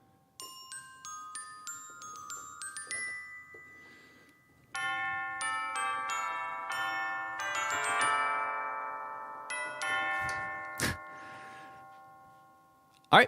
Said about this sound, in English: up here we have glockenspiel